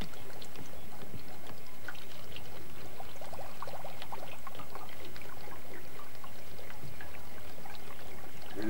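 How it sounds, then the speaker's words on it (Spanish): Water poured into an antenna grounding system for an FM station makes a steady, continuous gurgling pour that stays moderately loud and unbroken throughout. "le vamos a echar un poco de agua"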